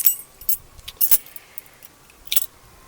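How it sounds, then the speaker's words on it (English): Original metal keys for a 1964 Mercury Park Lane jangle close up in several short, bright bursts separated by brief pauses. "The original Mercury keys."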